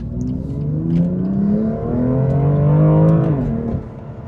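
A BMW M2 from the 2016-2021 generation revs its engine, the note climbing and holding in a strong, steady run before dropping off near the end, heard up close on its own with no talking.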